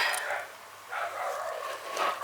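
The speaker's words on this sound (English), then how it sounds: "Oh, the dogs next door." Neighbours' dogs bark next door in a garden setting, a few muffled, distant barks in short bursts against a steady airy background.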